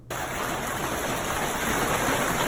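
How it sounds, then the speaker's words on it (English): Heavy hail pours down in an intense storm near the Washington Monument, a loud, dense, continuous roar that starts abruptly and carries on without voices. "Also, that is so much hail."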